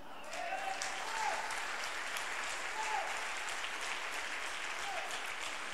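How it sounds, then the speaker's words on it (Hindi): Sustained applause from a congregation at a church convention, a steady broad wash of clapping held at an even level for several seconds with no one speaking over it. "तो शांत क्यों बैठे, ताली बजाएं।"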